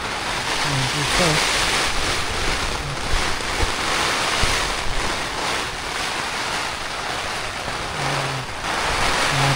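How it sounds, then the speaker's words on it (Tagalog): Strong wind and heavy rain lash a campsite at Maple Nature Camp in Sta. Maria, Laguna, a steady loud broadband roar with gusting swells and faint low voices or tones at moments. "Napakalakas po ng hangin at ulan mga idol."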